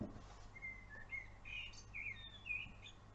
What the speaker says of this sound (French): Dans la nature, j'entends le merle noir.